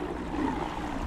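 A trolling motor on a small fishing boat on the Rappahannock River, its propeller cavitating as the boat rides over wind-driven waves, makes a steady, broad churning wash that stays fairly loud and constant without any voices.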